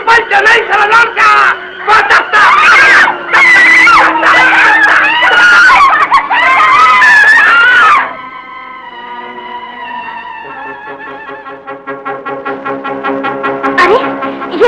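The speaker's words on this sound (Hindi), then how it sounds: "अरे ये बाजी आप फाखरा क्यों चीख रही है?" A woman screams in a dramatic scene from an old Hindi film, loud and sustained over a busy background of voices and music, then gives way to a softer melodic musical passage.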